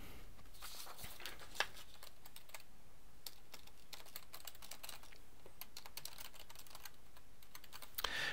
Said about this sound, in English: start typing something in